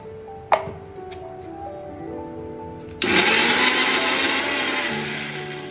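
An electric mixer grinder churns tomato, ginger, red chili and garlic into a chutney for veg momos, starting with a click, then whirring loudly and steadily at high speed before the pitch drops slightly near the end.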